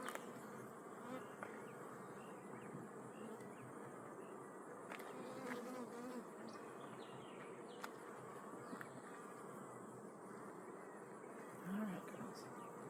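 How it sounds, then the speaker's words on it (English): Honey bees, mostly workers, swarm around an open hive frame in a dense, continuous buzz that stays steady and close throughout, with occasional individual bees droning past. "There's a few drone brood, but mostly worker bee."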